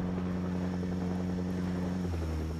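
Steady, loud rotor thrum of a helicopter overhead in Project Zomboid, a continuous droning pulse whose pitch dips slightly near the end, heard alone without talk.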